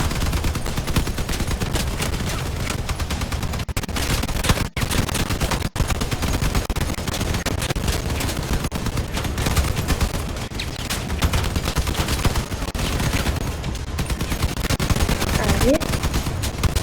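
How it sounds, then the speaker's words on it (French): Rapid machine gun fire in a combat video game, dense continuous bursts of shots filling the whole stretch, loud and close, with brief gaps between volleys. "On va les mitrailler."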